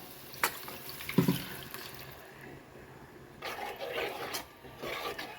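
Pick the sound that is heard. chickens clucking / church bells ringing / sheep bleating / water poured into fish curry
water poured into fish curry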